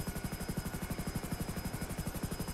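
A helicopter in GTA 5 flies with steady rotor thumping, a fast even chop throughout, loud and continuous.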